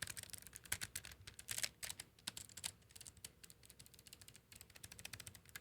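Clicky switches on a wireless Logitech G915 TKL mechanical keyboard clatter in fast, irregular bursts of sharp keystrokes, close and fairly quiet, with no talking.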